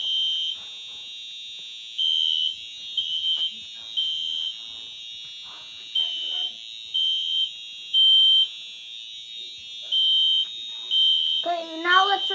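A building fire alarm sounds during a system test, its high electronic tone pulsing in regular on-off bursts over a steady background tone, with faint speech in the background near the end.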